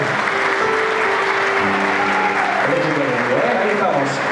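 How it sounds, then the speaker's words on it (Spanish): Audience applause at an evening show, clapping for a birthday celebration, a steady sustained wash of applause throughout with a voice and some musical tones running beneath it. "pido un fuerte aplauso para Uriel"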